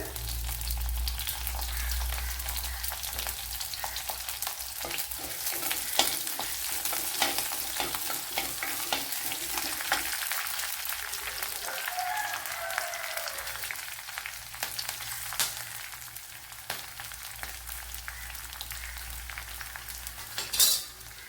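Dried red chillies and garlic cloves frying in oil for a tapioca dish, a steady close crackling sizzle with occasional utensil clinks and stirring, no talking.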